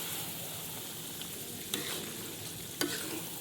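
Chicken meat fries in a pan for a home-style bhuna, a quiet continuous sizzle with two brief scraping clicks as it is stirred, and no voices.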